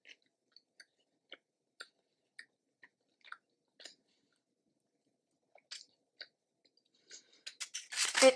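Close, faint chewing of salmon and steak kabobs, soft wet bites and squishes spaced every half second or so, with a pause before denser, louder chewing and crunching at the end.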